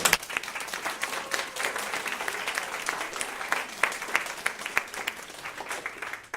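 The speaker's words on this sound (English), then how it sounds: "let's have another really big round of applause for Lisa Daly" Seminar audience applause, a dense, steady round of clapping from a crowd in an indoor hall that carries on throughout.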